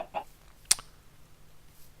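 Chickens in a coop in modded Minecraft (FTB), giving a couple of short clucks near the start, then one brief loud squawk, with quiet stretches between.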